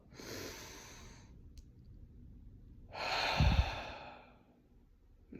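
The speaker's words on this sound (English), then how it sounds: "what I learned is deep breathing like this" Slow deep breaths, a long exhale followed by a fuller inhale-and-release, close and fairly soft with no talking.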